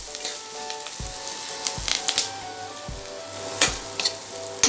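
Vegetables for a quick veg fried rice frying in a pan make a continuous close sizzle, punctuated by several sharp clatters of stirring and tossing, with a faint tonal background and no speech.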